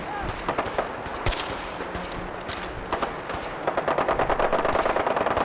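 Laser turrets in Fallout 4 fire rapid bursts of shots, irregular clusters at first, then a fast even volley near the end, with a voice in the background.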